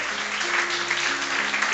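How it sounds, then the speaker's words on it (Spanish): A church congregation claps briefly for God during a sermon, a dense close wash of hands with a low hum underneath. "Dele un aplauso al Señor."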